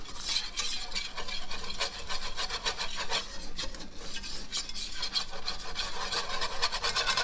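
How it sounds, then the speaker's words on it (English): Butter and about a third cup of flour whisked into a roux in a pan for lobster mac and cheese, a continuous close scraping and rubbing of the whisk with no voices. "Whisk that together and make yourself a roux."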